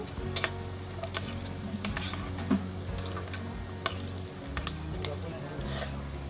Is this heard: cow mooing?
no